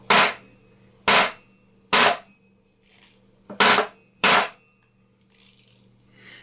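An inertia bullet puller is struck hard against a surface to free a bullet, giving five loud, sharp impact cracks about a second apart, with softer rattles between them.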